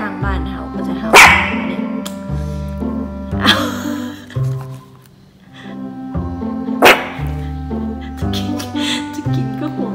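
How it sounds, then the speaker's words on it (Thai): Pomeranian and Corgi dogs bark indoors in several loud bursts spread across the stretch, with a steady tonal sound running underneath between the barks. "ได้ยินทางบ้านเห่าก็จะเห่า"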